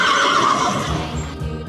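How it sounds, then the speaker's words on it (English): A horse whinnies once, a loud shrill neigh that wavers and fades over under two seconds, with soft background music continuing underneath. "Horse."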